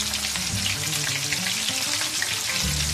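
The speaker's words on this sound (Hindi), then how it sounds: "ऑयल में डाल के इसको फ्राई पैन में कोई भी बर्तन आप ले लें, इसमें थोड़े लाइट ब्राउन हो जाए" Kofta balls fry in hot oil in a frying pan, giving a steady, close, busy sizzle with crackling bubbles and no talking.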